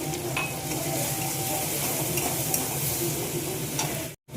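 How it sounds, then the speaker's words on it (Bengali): Tomato and spices, with crushed ginger and green chili, sizzle continuously in a pan while being stirred and fried for dal, a dense close frying hiss with faint scraping, ending in a brief dropout. "যতক্ষণ না টমেটোটা গলছে ততক্ষণ কষাতে থাকবো"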